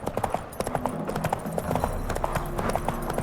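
Horse hooves clip-clop at a trotting pace in The Witcher 3: Wild Hunt, crisp repeated hoofbeats close up over a low ambient game backdrop.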